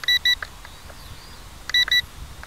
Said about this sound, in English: When you hear the two beeps, it's ready to flip.